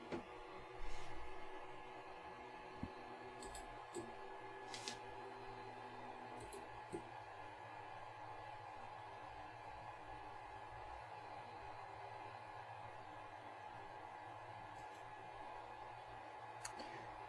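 An upgraded Ender 3 3D printer runs quietly, its near-silent stepper motors almost hidden under the steady whir of its cooling fans, with a few faint clicks scattered through a constant low hum.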